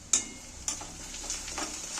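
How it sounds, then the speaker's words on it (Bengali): Curry leaves frying on onions in a pan give a brief bright hiss with two quick spatula scrapes, then a softer sizzle and a couple of faint stirs. "এখানে একটু আমি ক্যারি পাতা দিয়ে দিচ্ছি পেঁয়াজের উপরে"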